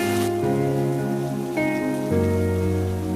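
Heavy cartoon rain pours in a steady, continuous wash beneath sustained background music, with no voices.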